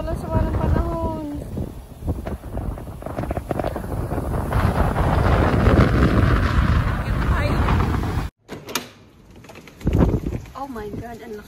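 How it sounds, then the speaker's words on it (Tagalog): Strong coastal wind during a high tide buffets the microphone with loud, gusty rumbling that drops out briefly near the end before returning. Birds call faintly at the start and end. "Oh my God, ang lakas ng hangin."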